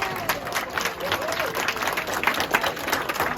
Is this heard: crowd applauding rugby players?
yes